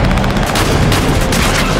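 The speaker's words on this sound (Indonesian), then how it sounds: "Peserta ketiga menembaki para pemburu" Gunfire aimed at the hunters' cars, dense and loud, a rapid clustered burst of shots blending into a continuous crackling roar with no pauses.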